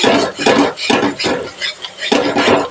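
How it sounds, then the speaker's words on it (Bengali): Pointed gourd (potol) curry is stirred and sautéed in a pan, with a spoon scraping and clattering against the metal in quick, irregular strokes that come close and fairly loud, with no talk. "কষিয়ে নিচ্ছি"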